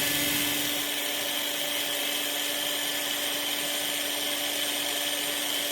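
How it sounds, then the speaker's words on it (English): A steady, high-pitched power drill whine, running in reverse during a twisted Clapton vape coil build, runs continuously at close range, holding an even tone throughout with no talking. "reverse the drill and just pull it off"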